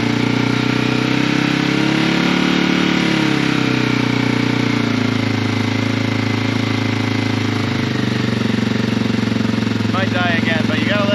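A Yamaha TW200 motorcycle engine idles loudly and steadily up close while warming up with the choke half in, its rough single-cylinder chug shifting pitch slightly, with a voice speaking briefly near the end.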